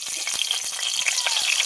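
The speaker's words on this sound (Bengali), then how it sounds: "এইভাবে সবগুলো মাছ লাল লাল করে ভেজে নেব" Pangas fish fry in hot oil with a continuous bright sizzle and scattered small pops and crackles, heard up close with no talking.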